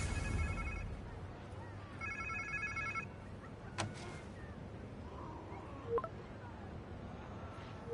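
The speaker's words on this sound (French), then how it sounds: "On dirait un téléphone." A telephone rings inside a Spider-Man 2 game scene on PS5: two bursts of electronic ringtone trills over a quiet ambient background, followed by a few sharp clicks and knocks.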